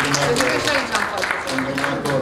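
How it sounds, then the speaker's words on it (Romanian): An audience applauds at a traditional crafts award ceremony with a steady, dense patter of clapping under a voice speaking over a sound system. "Puteți să-l aplaudați pe domnul Terziu"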